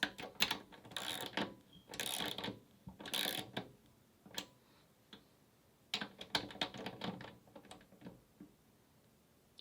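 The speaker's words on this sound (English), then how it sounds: "So now I'm just going to tighten this middle one first." Metallic ratcheting clicks and short mechanical bursts from tightening a bolt on a heavy-duty 17-inch guillotine paper cutter, coming in irregular clusters with brief pauses, close and quiet, no voices.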